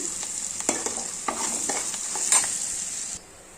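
Tempering spices fry in hot oil in a pan for rice-grit upma, a soft steady sizzle broken by irregular scraping strokes as they are stirred, close and fairly quiet, with no voices.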